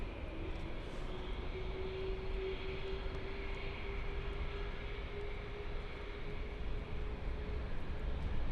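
An aircraft on final approach into London City Airport, a steady distant jet drone with a faint rising whine, sustained for several seconds with no talk.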